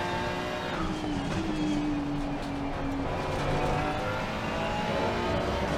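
Ferrari 296 GT3 race car engine held at full throttle in a racing game, a steady loud drone with a rising tonal whine sweeping upward mid-clip and no talk.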